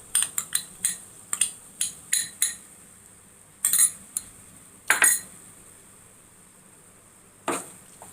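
Metal spoon clinking and scraping against a pan while ground masala is stirred into a Chettinad chicken curry with onions and tomatoes, a quick burst of sharp clinks, then a few spaced taps amid near silence.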